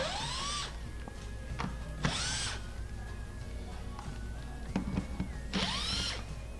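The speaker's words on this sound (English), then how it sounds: "we're going to go ahead and remove the two 1/4 screws that are holding the frame" A power drill spins out quarter-inch screws holding a frame inside a Whirlpool refrigerator. Three short whirring bursts with rising pitch are separated by clicks and quiet handling noise, close by.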